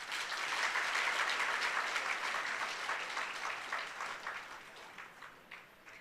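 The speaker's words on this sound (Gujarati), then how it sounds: "તો પોતાને માટે એક તાળીઓ પાડો." An audience at a Brahma Kumaris Shiv Jayanti celebration claps together, a full burst of applause that starts strong and gradually thins and fades over about six seconds.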